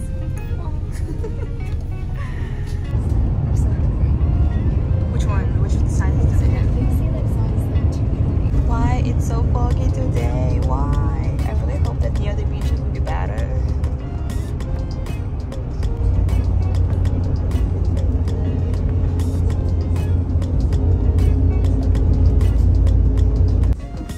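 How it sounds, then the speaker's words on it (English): Low engine rumble and road noise inside a moving bus on a trip to Gangneung, a steady drone that swells louder partway through, with people chatting over it. "Okay, so we're in the bus right now."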